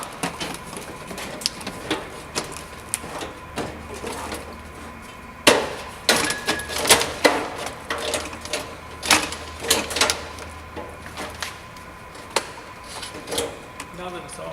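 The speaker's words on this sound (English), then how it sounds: "I'm going to take the lens off, and you can just hang it down." Plastic lens being taken off a fluorescent light fixture, producing a series of sharp clicks, snaps and plastic rattles at irregular intervals, close by, with a few louder knocks in the middle.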